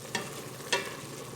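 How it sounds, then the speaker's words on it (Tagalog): A spoon or spatula stirs softened carrots in a pan for chicken sotanghon guisado, giving two short scraping strokes over a low steady sizzle, close and moderately quiet. "So haluin na natin siya guys."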